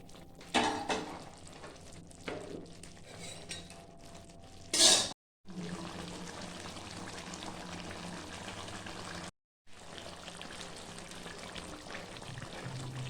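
Chicken and tomato paste are stirred in a pan over a medium flame, with soft bubbling and sizzling, a few utensil clatters against the pan, and two brief dropouts.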